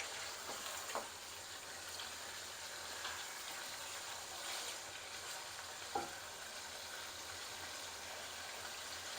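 Pieces of chicken for aloo chicken sizzle in hot oil over a high flame, a steady close frying hiss with occasional small pops and stirring scrapes, no talking.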